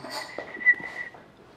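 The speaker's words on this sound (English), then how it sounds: "You can whistle?" A person whistles a short, thin, steady note, faint and fairly close, lasting about a second amid quiet room sound.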